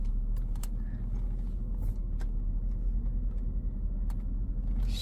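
A 2007 Mercedes-Benz S550 on a test drive gives a low, steady cabin rumble of road and engine noise, quiet and muffled, with occasional small clicks and ticks inside the car.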